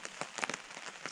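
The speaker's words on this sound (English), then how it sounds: "It's been raining since we got here" Rain drums on a tent overhead, a dense, close patter of drops in an uneven rhythm, with no voices.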